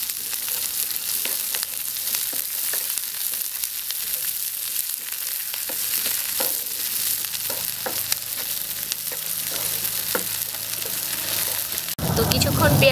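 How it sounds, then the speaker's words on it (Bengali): Chopped onion and raw green peas fry in a pan with a steady, close sizzle, broken by faint clicks of stirring. The frying swells louder and rougher near the end. "তো কিছুক্ষণ পেঁয়াজ আর মটরশুঁটিটা ভেজে নেওয়ার পরে"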